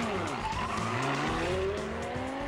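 An X1 car races a Lamborghini from a standstill, a dense roaring engine note with rising whine and tire noise climbing steadily in pitch as it accelerates hard, loud and continuous.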